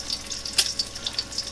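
Rich Vermont maple syrup is poured from a container, giving a short, thin splashing trickle with a few small drips, close and moderately loud, with no voices.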